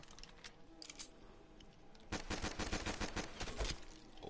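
Gunfire in a zombies video game: sparse single shots at first, then dense rapid automatic bursts, sharp and fairly loud with no talk over them.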